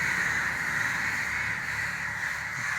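Crows caw loudly and continuously near a river bridge, with many birds calling at once in a dense, unbroken chorus after one of them was hurt striking a power line.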